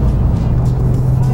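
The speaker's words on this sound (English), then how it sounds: "I like to hear the engine." A Porsche 911 C4S engine hums loudly along a Southern California canyon road, a steady low drone with road and wind noise filling a brief stretch.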